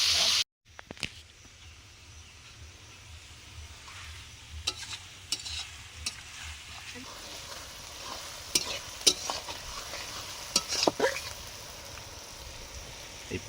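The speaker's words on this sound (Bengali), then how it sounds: "পেঁয়াজটা ভাজা হয়ে এসছে প্রায়" Onions frying in oil in a home kitchen pan, a steady soft sizzle running throughout with intermittent scraping stir strokes and small crackles, close and moderately loud, no talking.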